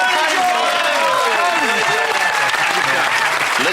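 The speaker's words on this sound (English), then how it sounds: "Please give him a big round of applause, ladies and gentlemen." A studio audience bursts into warm, sustained applause, a dense continuous patter of clapping with a voice speaking over it near the start.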